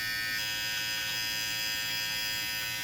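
Brightup rechargeable precision hair trimmer running steadily on its own, a continuous close electric buzz and hum with no talking.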